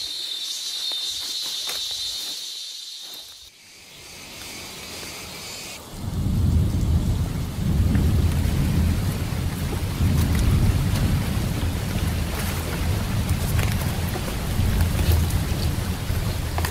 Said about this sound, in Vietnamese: Trận mưa này nó quá to luôn.